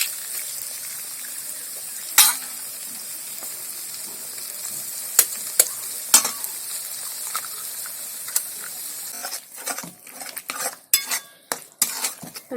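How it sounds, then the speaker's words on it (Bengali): Cabbage and two cracked eggs frying in a pan, with a steady sizzle, scattered sharp utensil clicks, and then a busier stretch of rapid scraping and clattering stirring toward the end. "আমি একটু নাড়িয়ে নেব আর ডিম দুটোর ভেতরে ফাটিয়ে দিয়ে দেবো"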